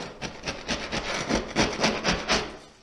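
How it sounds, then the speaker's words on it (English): A scraper works popcorn texture off a drywall ceiling in repeated, rhythmic rasping strokes, about a dozen close scrapes in under three seconds with no voices. "Just got to scrape back this popcorn just a little bit."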